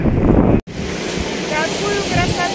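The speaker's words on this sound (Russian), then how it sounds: "Большие волны." Big sea waves wash and roar under strong wind on a stormy seafront in Batumi, with heavy buffeting on the microphone, a brief dropout and a faint voice in the background.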